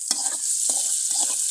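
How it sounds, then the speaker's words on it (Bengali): Eggs fry with onion and garlic in a pan, three short bursts of scraping and sizzle spaced about half a second apart over a steady hiss, close and fairly loud. "এখন ডিম ভাজছি, এখন ডিম ভুনা হবে। এর জন্য পেঁয়াজ আর রসুন দিছে,"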